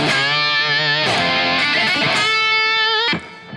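A lap steel guitar played through a Plexi amp with delay and reverb rings out in sustained, gliding notes with wavering slides and a lingering echo tail, loud and alone.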